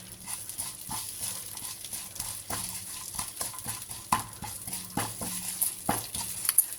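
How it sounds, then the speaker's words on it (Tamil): Sesame seeds sautéing in a pan with salted butter give a soft, continuous sizzle, broken by frequent light scrapes and clinks of stirring against the pan, close and moderately quiet. "இப்போ எள்ளு இது எல்லாம் இந்த சைடு வதங்குது."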